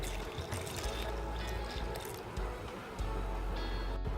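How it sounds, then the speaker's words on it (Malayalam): A quarter litre of milk poured into a sweet muskmelon juice mixture already sweetened with condensed milk, giving a steady, close liquid pour with soft splashing throughout. "നമ്മളിതിലേക്ക് 1/4 ലിറ്റർ പാൽ ഒഴിച്ച് കൊടുക്കാം"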